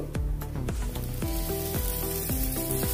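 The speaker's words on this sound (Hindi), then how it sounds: "मैंने तवा रखा है, अभी इसमें बटर डाल देंगे और अपना ब्रेड रखेंगे" Butter sizzles steadily as bread fries on a hot tawa griddle, a close, even crackle running the whole time, with a series of sharp rhythmic clinks and taps layered on top and no talking.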